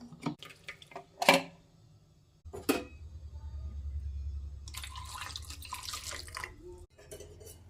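Cold water runs steadily from a tap over boiled eggs in a container for several seconds, with a few clinks and knocks of dishes before and after.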